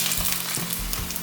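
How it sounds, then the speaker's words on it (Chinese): Tofu pan-fries in hot oil in a wok, a dense close sizzle and crackle lasting only a moment. "把豆腐推下来翻面，再让它慢慢煎。"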